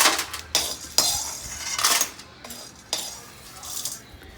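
Whole spices for biryani masala being dry roasted in a pan, with a series of sharp metallic scrapes and clinks of a spoon against the metal, several distinct strokes spaced out over a quiet background.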